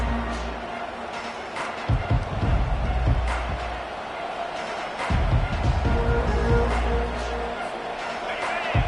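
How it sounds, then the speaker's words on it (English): Stadium crowd at a football game roaring and cheering in broad swells that rise and fall, loud and steady throughout with a few sharp bursts, no clear single voice standing out. "this crowd is fired up. Listen to this noise here."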